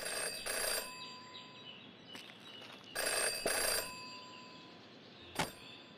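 A telephone ringing in the Jenny LeClue video game, with short repeated electronic bell bursts separated by pauses, clear and close against a quiet background.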